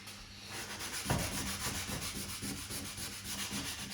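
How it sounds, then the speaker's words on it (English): Car door handles on a red Vauxhall Corsa C SXi are hand-sanded where the lacquer has peeled, giving a quiet, steady scratchy rubbing in repeated short strokes, close up and without talk. "So I'm rubbing the handles down now,"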